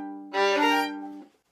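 A bowed violin chord, notes entering low to high in quick succession and ringing together for about a second before fading.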